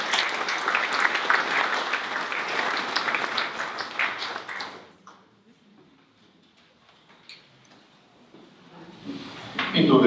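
Audience applause for a recipient at a science awards ceremony of the National Institute of Biology, dense steady clapping for about five seconds that cuts off abruptly, leaving a quiet room before a brief rise of clapping at the end.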